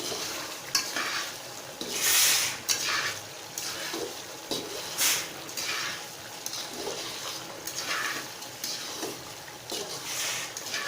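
Chicken karahi masala, dhaba style, fries and sizzles in a karahi while a spoon stirs and scrapes it, with a few louder scraping bursts over a constant frying hiss.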